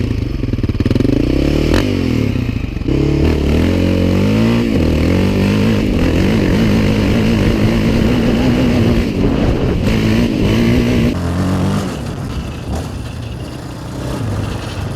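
A Yamaha 700 Raptor quad runs up close with its engine and exhaust, revving through repeated rises and falls in pitch, a steady loud drone with clattering edges throughout.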